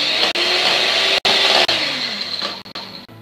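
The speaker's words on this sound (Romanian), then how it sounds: "Mixăm mai întâi apa de nouăt foarte, foarte, foarte bine" Continuous whirring of a small electric hand mixer whipping aquafaba close by, its motor pitch shifting slightly, with brief cutoffs near the end.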